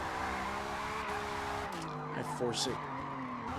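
A drift car skids, with a tire squeal rising over a steady engine drone and shifting whine near the end. A voice talks through it.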